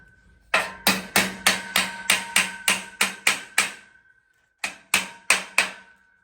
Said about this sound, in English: You can use a hammer to get it perfectly located